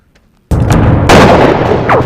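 Gunshots from bandits in a film, starting abruptly after a short silence with a loud close blast and then a second heavy report that rings out and lingers, with a brief high whistle near the end.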